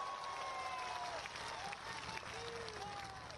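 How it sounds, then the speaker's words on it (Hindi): Dense, steady applause from a large crowd at an outdoor political rally in Balurghat, with a few whistles rising over the clapping. It holds loud and continuous for the whole stretch. "यदि भरोसा हो तो तालियां बजाइएगा"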